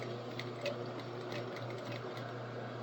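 A sewing machine running a back stitch, a steady close mechanical whir with faint rhythmic needle ticks throughout.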